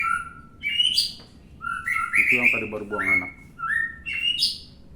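An oriental magpie-robin gives a series of bright, rising whistled calls and chirps, close by, with short pauses between phrases over faint background noise.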